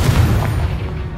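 A Confringo fire spell blast in Hogwarts Legacy, heard as a loud, deep booming burst that rumbles and fades over about a second.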